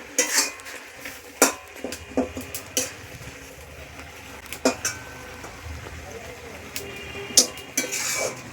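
Metal pot clatter while cooking prawn chachchari, several sharp clinks and clanks of a lid and utensils over a low background sizzle, with faint voice in the background.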